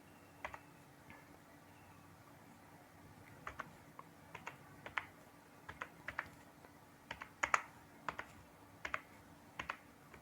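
Someone types on a computer keyboard, producing sparse, irregular key clicks at close range that quicken toward the end over a quiet background hum.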